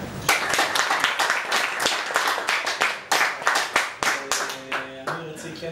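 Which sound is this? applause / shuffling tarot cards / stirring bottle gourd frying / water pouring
applause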